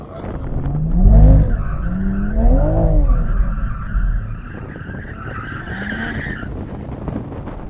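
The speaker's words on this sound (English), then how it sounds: "Now we need to warm up our tyres." Car tyres screeching and spinning with a revving engine, rising and falling squeals in several bursts, loud and close.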